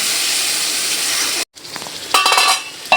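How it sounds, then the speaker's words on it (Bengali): Ground spice paste frying in oil for a village-style prawn and pointed gourd curry, a steady broad sizzle that cuts out briefly, then returns with scraping spatula strokes and clinks against the pan. "এখন গুলিয়ে নেওয়া গুঁড়া মশলাগুলোও দিয়ে দিলাম, দিয়ে আবারও সুন্দর করে কষিয়ে নিতে হবে"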